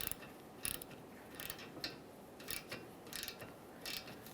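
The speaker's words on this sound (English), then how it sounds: "we'll use a 10mm wrench for the bottom nut and a 10mm socket along the top. Now we can tighten this." A 10mm wrench and socket tightening a condenser stud nut on a 2010-2013 Kia Forte Koup, giving quiet, repeated ratcheting clicks in short bursts at a fairly regular pace.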